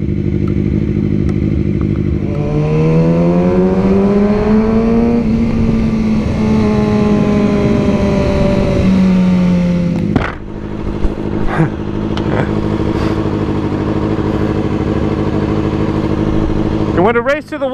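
A Mercedes SL65 AMG twin-turbo V12 revs close by, its loud engine pitch rising and falling in long sweeps before settling to a rumbling idle, with a voice speaking at points over it.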